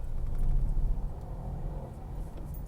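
Cars idling and creeping in a traffic jam near Sutter Road, a low continuous engine rumble that swells slightly early on then settles, with no talk.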